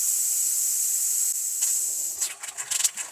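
Air sputtering and hissing out of a house faucet after a water heater is refilled, a steady hiss that breaks into irregular spits and bursts toward the end.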